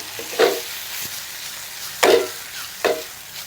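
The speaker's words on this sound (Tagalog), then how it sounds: "So ngayon pwede na natin gisahin yung bawang. Tutustahin lang natin siya par." Garlic and beef sautéing in a pan for Filipino beef steak, with three short bursts of sizzle and stirring against a quiet background.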